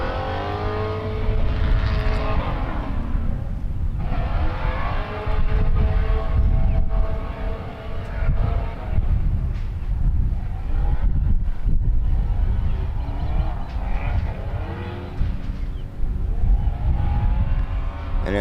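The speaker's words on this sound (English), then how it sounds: "you can hear those, the drift cars are running over on the other side of the racetrack" Drift cars race on the far side of the Sebring racetrack, their engines rising and falling in long revving sweeps, loud and continuous, with no talking.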